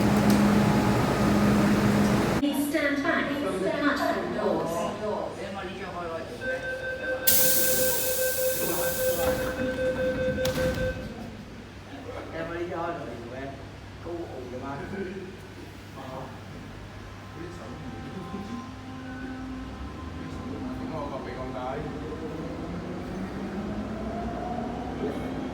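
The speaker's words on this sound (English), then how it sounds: "Another M train." An MTR M train sits at and moves through Po Lam station, with a steady hum, a brief bright hiss of air, and a tonal motor whine, while a voice speaks at times.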